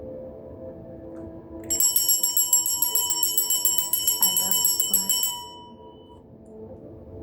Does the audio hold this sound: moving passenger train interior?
no